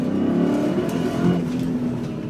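A stock BMW E39 M5 V8 engine revs up and holds, a loud near growl with a buzzy pulsing note that swells briefly and eases slightly toward the end.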